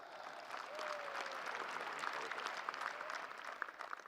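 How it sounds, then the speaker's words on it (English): A stadium crowd at the final of the 2022 Blind T20 World Cup, India versus Bangladesh, claps steadily in a dense, continuous wash of applause lasting several seconds, heard from a distance with a faint whistle-like tone running through it. "Can I request you all to put your hands and clap yourselves?"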